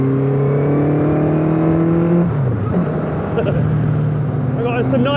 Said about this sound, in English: I'm in an Indy Classic today, Kawasaki ZZ-R1200 engine, built in 2008